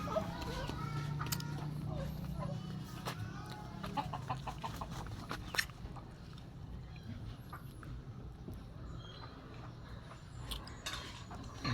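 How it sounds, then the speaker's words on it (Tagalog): Chickens cluck and squawk in short bursts, busiest in the first half, amid rustling and scattered handling noises, fading to quieter background later. "Chicken?"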